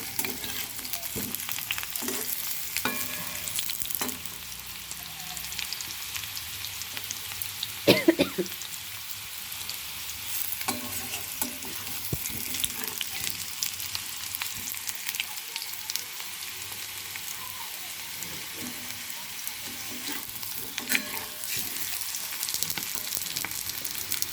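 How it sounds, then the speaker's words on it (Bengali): Potatoes frying in a pan, a steady close sizzle and crackle of hot oil lasting throughout, with occasional stirring knocks and scrapes. "আলুগুলোকে ভেজে নেব।"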